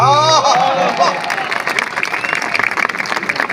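An audience applauds poet Dinesh Bawra at a live event, a dense wash of clapping that swells and holds steady after a brief opening of voice, filling the room at close range.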